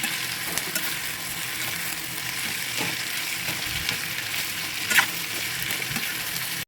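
Onion frying in oil with dried coconut for a crab curry fills the scene with a continuous loud sizzle, broken by occasional soft stirring scrapes and one sharper spatter.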